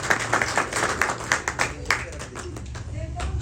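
A large crowd at a youth gathering claps vigorously, with distinct individual hand strikes standing out over the dense, fluctuating roar of applause.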